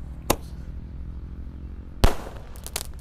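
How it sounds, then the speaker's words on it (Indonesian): A small Sonic Boom firework launcher, a Roman candle type, fires outdoors in the evening with two sharp pops, one early and a louder one about two seconds later, followed by faint crackling. "Pelontar ukuran kecil guys. Bledosnya seperti Roman Candle, tapi ukurannya agak kecil ya."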